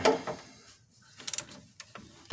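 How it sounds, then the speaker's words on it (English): A wrench being turned on the front grill of a Jeep TJ, giving a few short metallic clicks and ratcheting ticks close by, in a quiet setting. "But I got to set this down so I can turn this wrench."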